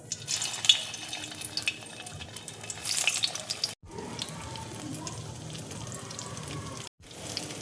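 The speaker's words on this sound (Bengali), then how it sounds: "এবার আমি টিকিয়াগুলো এক এক করে তেলে ভেজে নেব।" Corn tikkis dropped one by one into hot oil in a kadai, giving a steady close sizzle and bubbling with brief bursts and two short gaps, no voices.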